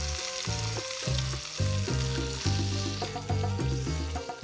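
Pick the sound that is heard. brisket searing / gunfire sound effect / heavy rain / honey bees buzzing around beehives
brisket searing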